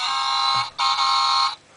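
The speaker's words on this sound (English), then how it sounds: "he's in truck mode and he beeps his horn" An electronic horn on a Nightwatch Optimus Prime toy truck beeps in two sustained bursts, the first a bit longer, with a brief gap between, loud and close.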